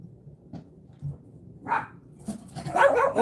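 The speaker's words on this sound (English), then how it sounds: "There's a new doggy next door, no way!" A dog barks next door, several short muffled barks that grow louder and more frequent toward the end, heard at a distance with no talk.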